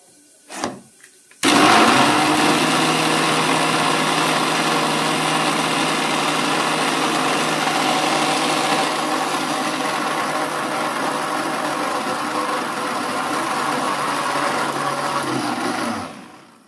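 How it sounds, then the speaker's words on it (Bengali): Electric kitchen grinder whirring as it grinds poppy seeds with three ripe green chillies, starting after a few brief clicks, then a loud steady motor drone for about fifteen seconds before cutting off. "এই ফাঁকে একটু পোস্তটা বেটে নিই।"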